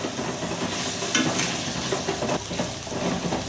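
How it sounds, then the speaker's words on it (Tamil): Mixed vegetables sautéing in a pan for a spicy South Indian veg kurma, a steady close sizzle with soft scraping stirs throughout, no voices. "இதெல்லாம் சேர்த்துட்டு கொஞ்சம் வதக்கி விட்டுடலாம்."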